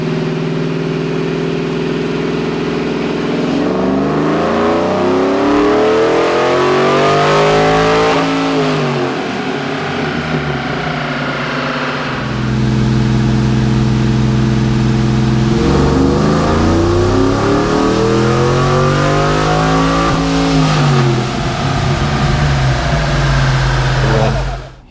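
A Chevrolet Tahoe fitted with headers and running on E85 ethanol revs hard on a chassis dyno, its engine climbing through long loud pulls, dropping back to idle between them, close and with no voices.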